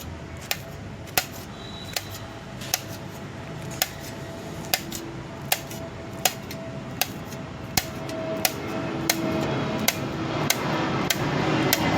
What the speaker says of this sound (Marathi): तर आपण ही भाजी ह्या प्रकारे कापून घेणार आहोत सगळी